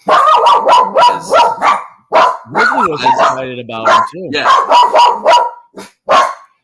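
A pet dog barks frantically indoors in rapid, loud bursts close by, mixed with someone talking over the noise.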